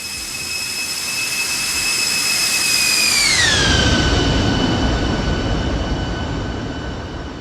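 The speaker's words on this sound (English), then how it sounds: "Is that a flyby?" Boeing 747 freighter jet engines roar loudly in a flight simulator flyby, the whine sweeping down in pitch halfway through as the aircraft passes, leaving a steady broad rumble.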